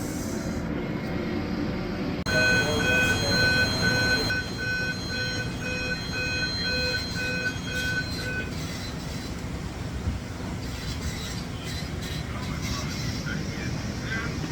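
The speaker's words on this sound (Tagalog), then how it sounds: "Papatay tayo ng alarm." An alarm sounds aboard a ship after the engine is stopped: a pulsing, tonal electronic beeping repeats for several seconds over a constant loud wash of machinery noise, then cuts off while the background roar continues.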